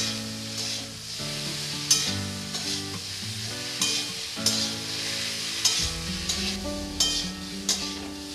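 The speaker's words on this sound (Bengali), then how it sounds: "এবার আমি আলু সজনের সাথে পোস্তটা ভালো করে ভেজে নেব।" Potato and drumstick frying with poppy seed paste in a pan, a steady loud sizzle under repeated scraping stirs of a spatula, with no talking.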